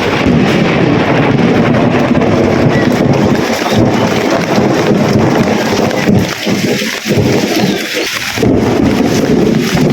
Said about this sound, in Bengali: আপনারা এই ঠাডা আসলে প্রচুর পরিমাণে ক্ষতি করে